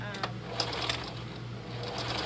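A sewing machine stitching a fabric waistband close to the folded edge, with a continuous rapid mechanical chatter at a moderate level throughout the short stretch.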